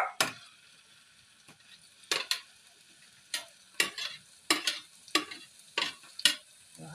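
Tomatoes are stirred in a hot frying pan, with about eight sharp, separate scraping strokes of a utensil against the pan over a quiet, faint sizzle.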